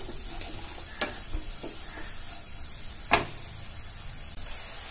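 Green chillies and green onions fry in a pan, a steady soft sizzle running throughout with a couple of brief spatula scrapes standing out.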